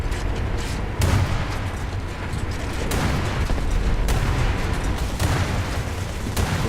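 A warship fires full broadsides in War Thunder naval combat, heavy booming salvos landing about once a second over a constant low rumble of engine and sea noise.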